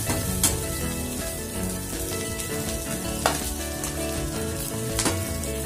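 Onions and small kanthari chilies sauté in hot oil for a coconut chutney, a dense close sizzle with occasional scraping clicks from stirring throughout.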